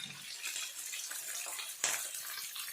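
Water is poured into a pan for North Karnataka brinjal palya, a close, continuous splashing gush with a small surge near the end.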